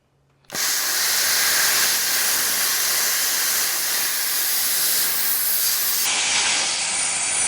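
Plasma cutter slicing a straight line through 1/4 inch steel plate: a loud, steady, broadband hiss switches on abruptly and holds unbroken for about seven seconds, with no voices.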